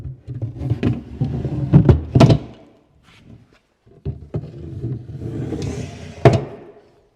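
Wooden shelves bump and slide into place in a cabinet with a few solid knocks and thunks, a brief pause midway, then more shuffling and a sharp knock near the end.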